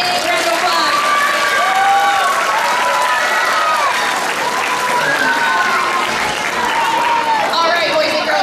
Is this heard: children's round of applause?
yes